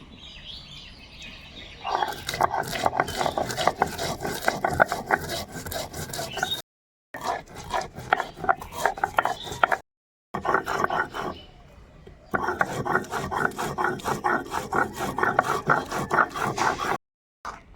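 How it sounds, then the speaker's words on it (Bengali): Whole coriander and cumin ground together into paste on a stone, rough rhythmic rasping strokes in bursts, close and loud, with brief pauses between. "এখানে নিয়েছি গোটা ধনে আর গোটা জিরে একসঙ্গে বেটে নেব"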